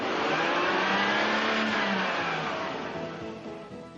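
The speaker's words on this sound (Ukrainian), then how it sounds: "збільшити обороти двигуна" A car engine revs up during a variable valve timing check, a steady rising mechanical hum that holds loud and then eases off slightly toward the end, with no voices.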